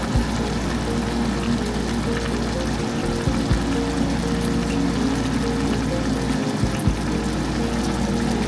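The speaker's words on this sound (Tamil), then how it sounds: "இப்போ ரைஸ் போட்டு தேவையான அளவு தண்ணி ஊற்றிக்கோங்க." Water pouring steadily into a pot of basmati rice for home-style chicken biryani, a continuous close rushing flow with faint clinks, and no talking.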